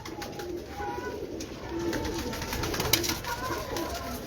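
Jaunsra breeder pigeons on a Lahore rooftop cooing softly in a few short, repeated low coos over a steady outdoor background hum, with no talking.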